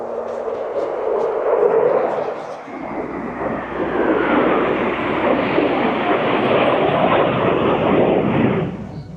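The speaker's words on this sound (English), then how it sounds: "A fighter jet just flew by, so be very careful when you're flying your drone around here." A fighter jet flies low overhead near a hillside fortress, its roar swelling from a distant rumble into a loud, sustained broadband rush that stays strong to the end.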